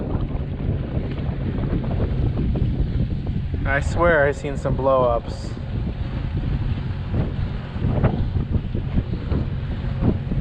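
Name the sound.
strong wind on a fishing boat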